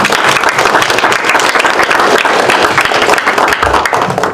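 A crowd at a school board of education meeting breaks into applause, a loud, dense and continuous roar of many hands clapping throughout, easing off slightly at the very end.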